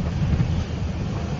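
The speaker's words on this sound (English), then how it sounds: "Huge waves." Wind and heavy ocean swell rush over a racing yacht sailing fast upwind in gusty, rainy trade winds, a steady close roar of wind on the microphone with low surging water beneath.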